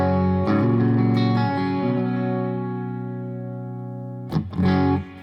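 An electric guitar played through a Joyo Bantamp amp on channel 1 with the gain turned all the way up, giving sustained, slightly distorted chords that ring out and fade, then a few fresh strums near the end.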